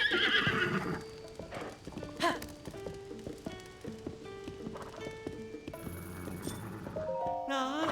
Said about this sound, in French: voilà un cheval absolument magnifique